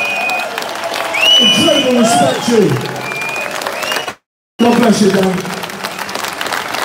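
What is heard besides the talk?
applause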